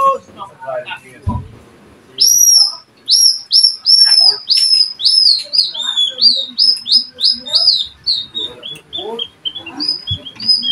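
A hunter of the Palaw-an tribe imitating bird calls with his voice, a rapid series of high whistled chirps and tweets in quick repeated bursts, close and clear, after a few low sounds at the start.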